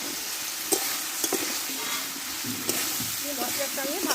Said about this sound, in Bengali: ভালোভাবে সবজিটা আমি একটু টাইম করে কষে নেব